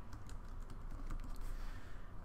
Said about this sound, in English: We'll go over here and type the word slider.